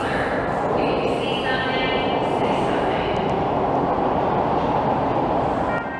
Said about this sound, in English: I think the train is rolling in.